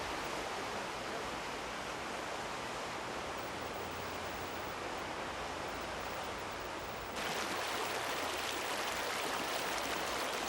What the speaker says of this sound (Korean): 거대한 침묵 속으로 흘러드는 물소리, 바람소리